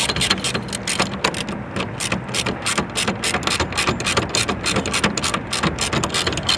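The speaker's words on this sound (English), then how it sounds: "Then we're going to take our 7mm socket that we use to take off the factory screws and start tightening it up." A ratchet with a 7mm socket tightens screws on the spoiler of a 2024-2025 Ford Mustang, giving a rapid, steady run of loud, close mechanical clicks throughout.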